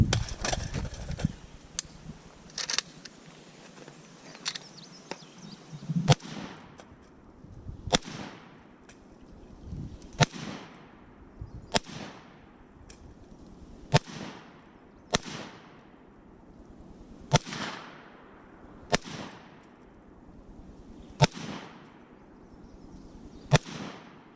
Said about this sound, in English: instead we're going to do a regular mag dump on the drum.